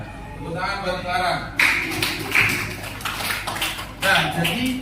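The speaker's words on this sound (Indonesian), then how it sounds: "Tepuk tangan buat Clara." Classroom applause for a student, a burst of clapping from a group of pupils that starts abruptly and carries on steadily with some voices mixed in.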